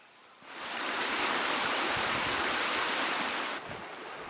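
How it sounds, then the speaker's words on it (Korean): A mountain stream on Seoraksan near Sinheungsa temple rushes close by, a broad continuous roar that swells in at the start and eases slightly near the end. "물소리"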